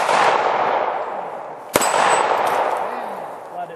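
A single sharp steel clang rings out from a target on a Shoot N Spin dueling shooting tree struck at an outdoor range, one loud hit over a steady breezy rush of background noise.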